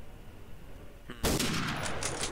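Gunfire in a WWII roleplay video game, a sudden loud, close burst of shots, likely from an SMG, cracking in and ringing on to the end over quiet background ambience.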